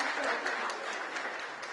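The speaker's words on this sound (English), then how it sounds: "I think we must have a resounding round of applause for the unveiling of the new CMVR" Crowd applause at the unveiling of the new CMVR before an automotive industry gathering in Delhi, a steady wash of many hands clapping, fairly faint and distant, with some voices mixed in.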